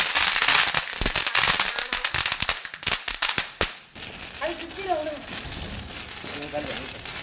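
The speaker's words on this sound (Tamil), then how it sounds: "நைட்டு பார்த்தீங்கன்னா நல்ல கலர் வெடிலாம் போட்டோம்" Diwali firecrackers bursting at night, a rapid crackling string of sharp pops dense for several seconds then stopping, followed by softer background noise with voices talking nearby.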